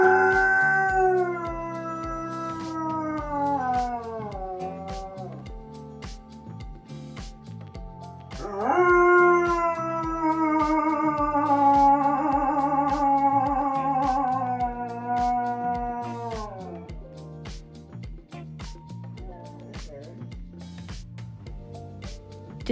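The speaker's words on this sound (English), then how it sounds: "He likes to howl at sirens." A pet dog howls at sirens in two long, wavering, vibrato-laden howls up close, with faint whimpering as they trail off and no talking.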